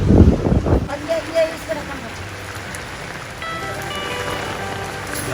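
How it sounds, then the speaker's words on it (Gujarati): Steady rain patters on surfaces nearby at Geeta Bhavan in Rishikesh, a soft continuous hiss; a short burst of voices opens the clip before the rain carries on alone. "વરસાદ ચાલુ છે અત્યારે"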